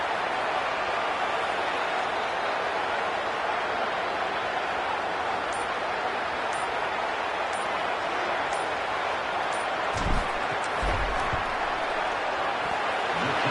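A football stadium crowd roars in a steady, dense wall of noise as a field goal kick is lined up, with a slight swell near the end.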